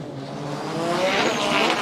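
Roaring aquabike racing engines rise steadily in a loud, continuous drone, building in intensity over a couple of seconds with no voices.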